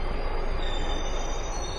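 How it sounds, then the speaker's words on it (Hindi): A metro train pulls into a station with a loud, steady rolling rumble, its wheels squealing thinly on the rails throughout. "चलो भाई मेरी मेट्रो तो आ गई, अब इसमें बैठ के जाना है।"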